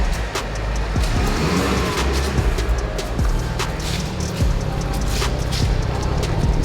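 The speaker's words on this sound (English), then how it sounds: "So excited to hear this new blow valve." A Mitsubishi Evo V at a car meet, fitted with a refurbished blow-off valve, revs up and drops back repeatedly, each lift-off followed by a sharp, airy hiss from the valve, loud and close.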